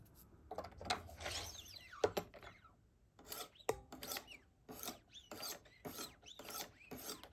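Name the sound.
Wicked Edge system sharpening knife on 800 and 1000 grit stones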